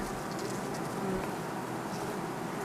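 A honeybee swarm hums at the hive in June, a steady, fairly faint buzz of many bees with no talk over it.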